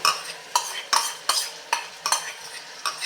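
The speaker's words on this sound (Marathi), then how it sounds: "मस्त मिक्स करून घेऊया हे" Tomato puree being stirred into a green peas masala in a pan, with a spoon scraping in steady repeated strokes about every half second over a soft sizzle, close and fairly loud, no talking.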